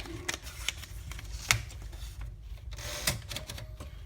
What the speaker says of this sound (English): And now we'll do a type test.